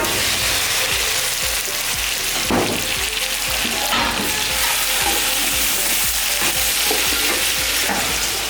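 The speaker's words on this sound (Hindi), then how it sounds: "इसमें हम अब चिकन डालेंगे।" Chicken pieces hit hot oil with browned garlic in a pan for Sobat, a traditional D.I. Khan dish, giving a loud steady sizzle with stirring scrapes and clatter throughout.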